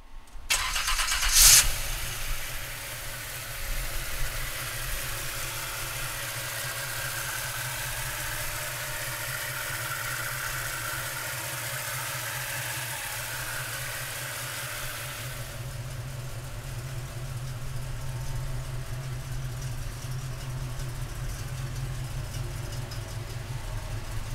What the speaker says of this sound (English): we'll fire this 327 up for you right now